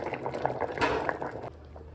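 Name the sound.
bamboo shoot sambar boiling in pot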